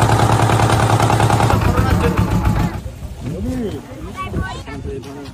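A motorboat crossing the Chinai river to Mousuni Island drones with a loud, close, throbbing engine for a few seconds, then drops to a quieter rumble as voices come in.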